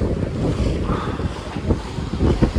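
Strong 30–35 knot wind buffets a sailboat running downwind on the open ocean, with heavy microphone rumble, gusting roar and the wash of waves, loud and continuous.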